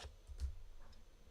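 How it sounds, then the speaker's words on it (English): A 3D printer ticks faintly in a quiet room with a few soft, evenly spaced clicks, one standing out a little louder than the rest. "I can still hear the 3D printer clicking."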